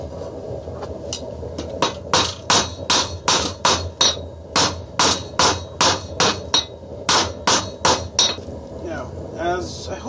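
Hammer blows on hot steel as a backyard blacksmith draws out a long, gradual taper, a loud, close, evenly paced run of about twenty ringing strikes with a few softer taps at the end.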